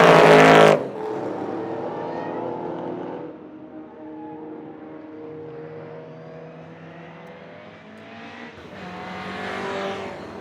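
1960s endurance racing cars whine past on the Montjuïc circuit in Barcelona, with rising and falling engine tones, one loud burst at the start, then steadier engine drone fading and swelling.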